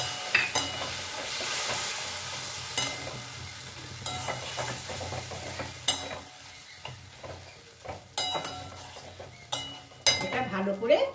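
Mint leaf paste sautés in a pan for a rohu fish dish, giving a soft, steady sizzle under sharp clicks and scrapes from a spoon stirring against the pan, up close with no clear talk.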